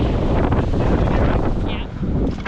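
Wind buffets the microphone in a steady, loud roar on a cold, snowy walk near a mountain hut, with gusts rising and easing and no voices.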